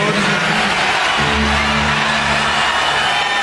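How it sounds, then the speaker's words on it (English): A loud live crowd at a concert in 2022 roars and cheers continuously, with whoops and bellowing voices in a dense wash of noise. "like a very energetic crowd"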